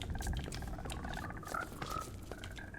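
Frogs croak in the Minecraft game, a soft, continuous chorus of low burbling calls with a few higher chirps over a steady murmur.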